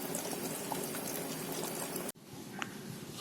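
A pot of chickpea kurma bubbles and simmers steadily close by, a soft continuous gurgle that cuts off abruptly and resumes more quietly.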